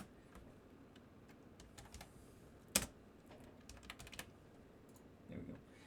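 Keys clatter on a computer keyboard in quiet, uneven bursts of close clicks, with one sharper keystroke standing out partway through.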